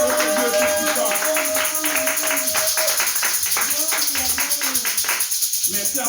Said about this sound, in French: Qui applaudissons pour la gloire de notre Dieu Tout-Puissant.